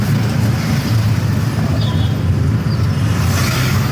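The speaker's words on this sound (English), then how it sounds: "Let me increase the speed of my car a little bit." A car driving through crazy traffic with cows in the street, its engine droning steadily in low tones under constant road noise, no clear rise in pitch to mark it speeding up.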